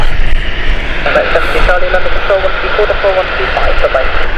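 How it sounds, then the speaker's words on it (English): An Aer Lingus airliner departs Gatwick Airport on a misty morning, its jet engines a loud, steady roar close by, with a voice talking over it. "Aer Lingus going nice and early, heading up."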